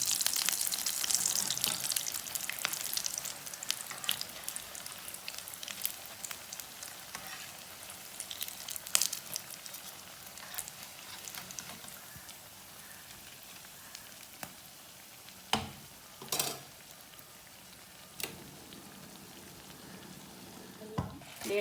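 Potato tikkis frying in hot oil in a home kitchen, a steady close sizzle with occasional louder spits and utensil clinks, no talking.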